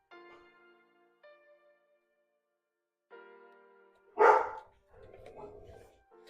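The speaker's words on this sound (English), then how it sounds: "The dogs are barking at something outside." Dogs barking indoors at something outside, scattered tonal yips and whines followed by one loud close bark and a short run of rougher barks.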